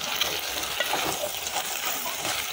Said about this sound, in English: And then you stir.